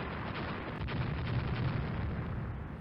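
Naval gunfire in the Rule the Waves warship game, a steady loud rumbling barrage of booms and blasts without pause, with no talk.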